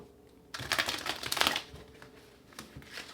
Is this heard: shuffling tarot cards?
yes